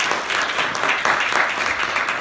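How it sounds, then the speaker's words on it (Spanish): A church congregation claps warmly for the Lord during a Spanish-language sermon, a dense, sustained round of applause at moderate distance that fills the room. "Démosle un fuerte aplauso al Señor."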